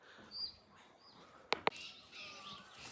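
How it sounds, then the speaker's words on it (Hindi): A few faint, high bird chirps ring out in the early morning in rural Rudraprayag, Uttarakhand, quiet and distant, with two sharp clicks near the middle. "चिड़ियाओं की आवाज़ आपको सुनाई दे रही होगी"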